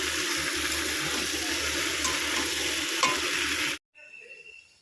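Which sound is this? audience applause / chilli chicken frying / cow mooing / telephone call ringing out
chilli chicken frying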